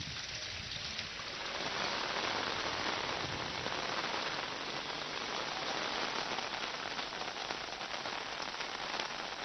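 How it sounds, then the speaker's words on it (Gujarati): Heavy rain pours steadily in a city and district during a storm with strong wind, a dense, loud, unbroken hiss and patter filling the scene from start to finish with no voices. "શહેર અને જિલ્લામાં ભારે પવન સાથે વરસાદ વરસ્યો."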